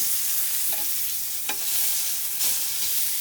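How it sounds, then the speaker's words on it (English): Steak sizzling loudly on a grill, a dense, continuous frying hiss close up, with a few brief scraping clicks as utensils flip the meat. "We got our utensils here to flip the steak."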